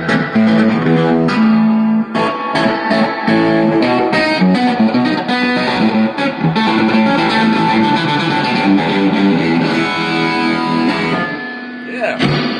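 Electric guitar through a reverb effects unit, loud distorted chords and notes played continuously with heavy reverb wash, ringing out at the end.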